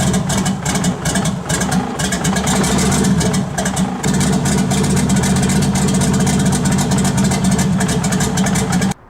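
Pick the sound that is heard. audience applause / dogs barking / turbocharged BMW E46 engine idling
turbocharged BMW E46 engine idling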